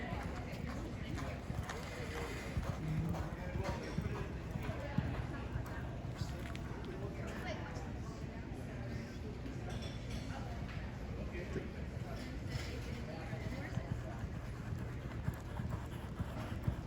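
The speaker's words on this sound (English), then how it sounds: "the horses are warming up for today's races" Horses warming up at Saratoga Race Course in the morning, with faint, steady hoof clip-clops mixed into a busy outdoor background while people talk nearby.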